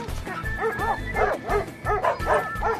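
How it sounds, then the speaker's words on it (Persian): A dog in a drama barks in a steady run of about seven or eight close, loud yelping barks, evenly spaced, with no talk over them. "لبن خلاصم کن وگرنه سگ مرا میخورد"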